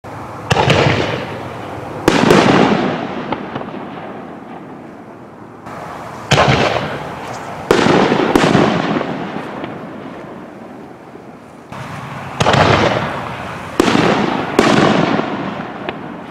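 Artillery shell fireworks, Zeus and Pro shells, go off one after another: loud booming bursts at irregular intervals, each followed by a long crackling, rumbling decay, heard at a moderate distance with no talking.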